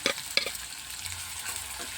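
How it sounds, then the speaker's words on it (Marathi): Chopped onions sautéing in hot oil tempered with cumin, a steady close sizzle with stirring scrapes and a few sharper spatters, no talking. "याच्यात बारीक चिरून घेतलेले कांदे टाकते कांदे बी बघा आपल्याला चांगले असे परतून घ्यायचे"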